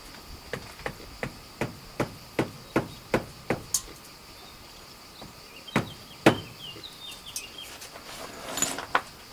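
Hammer blows on stonework during stone restoration at an Italian farmhouse ring out in a steady run of sharp, evenly spaced strikes, then a few louder irregular knocks, with faint birdsong in the background.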